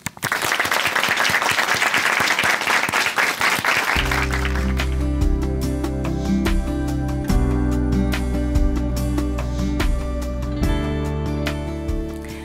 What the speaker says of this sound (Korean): 춘천한마음교회 이근영 자매님 박수로 모시겠습니다.